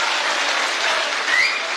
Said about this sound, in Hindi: मैं चाहता हूं एक बार जोरदार तालियों से आप अपनी मौजूदगी दर्ज कराइए